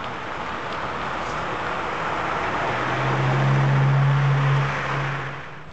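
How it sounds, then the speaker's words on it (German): Police patrol car speeding away on a Stockholm street, a steady engine roar swelling to a loud, low drone before easing off, with no talk. "Und der Wagen fährt, ja, rast davon."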